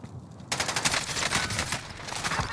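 Rapid automatic gunfire in the Warzone game, a dense string of loud bursts that begins abruptly after a brief quiet moment and keeps rattling nonstop.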